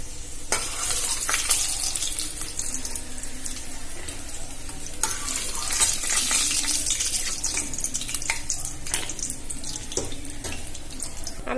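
Food frying in a pan for Bengali chira pulao, with a steady close sizzle and crackle running throughout, occasional scraping and stirring sounds, and no voices.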